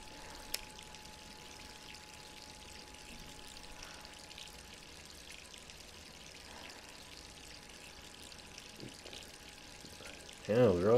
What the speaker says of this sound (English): Our water's still running.